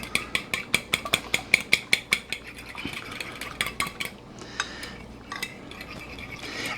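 French toast batter with cinnamon and vanilla being mixed: a quick run of rhythmic clinks of a utensil against a bowl, close and bright at first, then easing into looser, scattered scraping taps.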